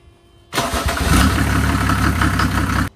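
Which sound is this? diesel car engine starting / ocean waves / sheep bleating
diesel car engine starting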